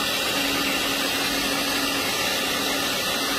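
An electric mixer whirs continuously as it mixes cake batter made with coconut sugar, coconut flour and coconut oil, a loud, steady motor drone with a faint hum and no talk.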